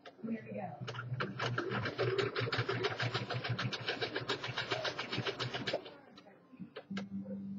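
Sewing machine stitching fabric for baby leggings, a fast steady mechanical chatter running for several seconds before stopping, with a voice talking over it.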